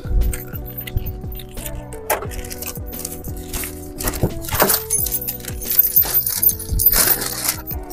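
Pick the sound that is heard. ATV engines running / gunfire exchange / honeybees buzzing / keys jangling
keys jangling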